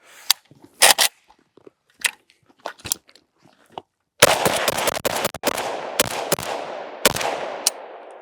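An AK-103 rifle with a banana magazine first gives a few sharp metallic clicks and clacks, then fires loud, close bursts of rapid gunfire with long echoing decay between shots.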